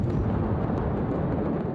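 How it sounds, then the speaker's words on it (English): A huge cache of ammonium nitrate detonates in a dockside warehouse, a loud, sustained, deep roaring rumble that fills the whole moment without pause. "a huge cache of ammonium nitrate detonated in a dockside warehouse"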